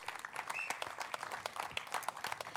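An audience at a press event claps, a quiet scattering of individual hand claps with uneven rhythm, moderately distant and thin rather than a full roar.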